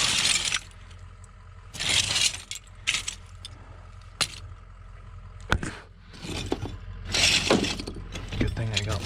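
Glass and aluminum debris clinking and clattering as it is dug through in the still-hot wreckage of a burned, stolen truck, with repeated bright jangling bursts up close and a voice speaking between them.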